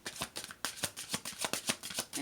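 Tarot deck being shuffled by hand, a steady run of crisp riffling card flicks, close and fairly quiet, with no talking.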